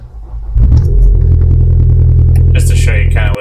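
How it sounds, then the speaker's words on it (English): A 2018 Ford Escape with a replacement engine cranks and catches, then settles into a loud, steady idle rumble up close. Some higher clatter comes in near the end. "Okay, we're gonna start her up here."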